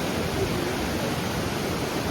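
Small mountain stream rushing over stones at a river crossing, a close, steady broadband wash of flowing water without pauses or voices.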